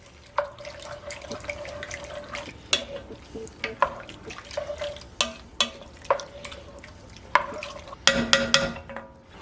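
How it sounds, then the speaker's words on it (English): Cold vegetable broth being stirred into a one-pot meal, with a spoon scraping and clinking against the pot in irregular knocks over a soft liquid slosh, close and fairly quiet. "Gonna mix this all together."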